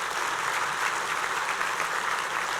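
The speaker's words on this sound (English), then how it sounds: "Let's give them a big round of applause" Sustained applause from an audience at a breakfast event, steady and dense throughout, filling the room without a break.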